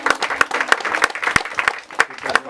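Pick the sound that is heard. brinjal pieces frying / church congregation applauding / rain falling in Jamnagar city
church congregation applauding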